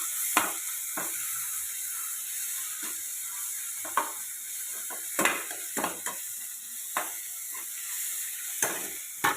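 Turmeric and salt fry in a pan with a steady, close sizzle and hiss, broken by sharp scraping clicks from stirring at irregular moments; no one speaks.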